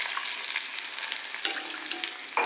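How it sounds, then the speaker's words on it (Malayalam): Water goes into a hot pan for bread Maggi and meets a loud hissing sizzle, crackling and bubbling close by, with a few sharper pops and a final burst of splashing near the end. "മാഗിയും ഇതെല്ലാം വേകാൻ ആവശ്യമായിട്ടുള്ള വെള്ളം ഒഴിച്ചു കൊടുക്കണേ"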